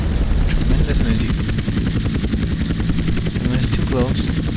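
A helicopter in GTA San Andreas, modded with air force weapons, gives a loud, steady rotor thrum with rapid chopping pulses, continuous and close, while someone talks over it.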